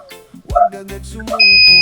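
A multimeter continuity buzzer lets out a shrill, steady electronic beep near the end while testing capacitors on an inverter, preceded by faint clicks and handling noises.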